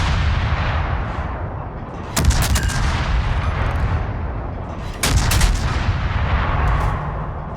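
Ship main battery gunfire from the Hull in World of Warships: two loud, sharp salvo blasts about three seconds apart, each with a rumbling tail over a steady ocean and engine bed.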